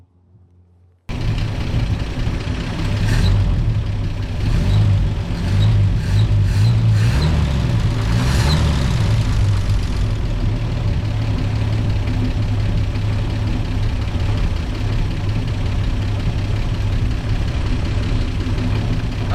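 An old, tired car engine, said to have sticky valves and to be smoking, runs and idles steadily and loudly up close, with a low rumbling throb that continues unbroken for the whole stretch and no talking.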